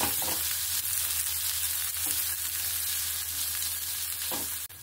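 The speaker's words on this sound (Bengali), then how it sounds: "দিয়ে পেঁয়াজ কাঁচা লঙ্কা ভালো করে ভেজে নেব একটু।" Chopped onion and green chillies fry in hot oil, giving a steady close sizzle that runs unbroken throughout, with a few faint clinks of a stirring utensil.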